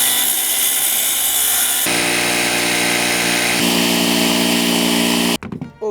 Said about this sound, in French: Maintenant, on passe à la découpe de tout ça.